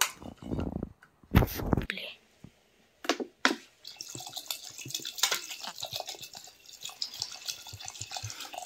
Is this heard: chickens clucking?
no